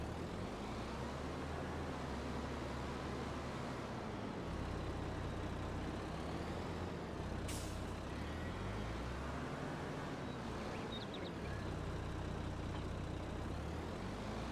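A Valtra tractor engine runs steadily in a farming video game, a low continuous drone that rises and falls in pitch as it works, with no voices present.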